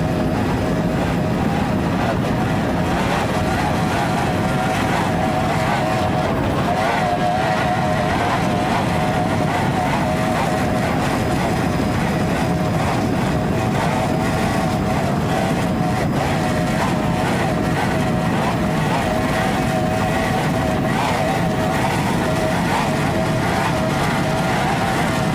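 Ford Apache racing powerboat with three 2.5 EFI outboard engines at a Miami Beach grand prix, a steady droning engine roar with wind and water rush throughout.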